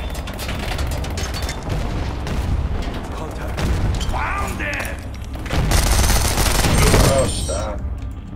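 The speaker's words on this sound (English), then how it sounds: "I'll try the machine pistols one more time here on this round" Machine pistol fire in the video game Ballistic Overkill: dense rapid bursts and impacts layered with game effects, loud and continuous, with a louder burst near the end.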